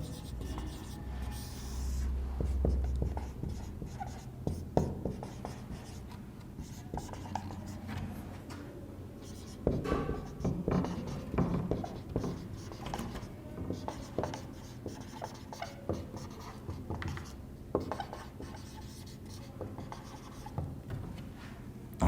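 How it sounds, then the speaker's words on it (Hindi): Chalk or marker writes on a classroom board in a steady run of scratchy strokes and taps, close and fairly loud, with quiet pauses between words and no speech. "एक और लिखते हैं"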